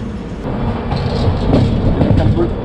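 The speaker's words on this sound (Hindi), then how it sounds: "हुसैन सागर एक्सप्रेस जो हैदराबाद और मुंबई के बीच में चलती है जस्ट आई है अभी।" Hussain Sagar Express train running between Hyderabad and Mumbai arrives at a station with a steady close rumble of rolling wagons and faint rail clatter, with a person talking over it.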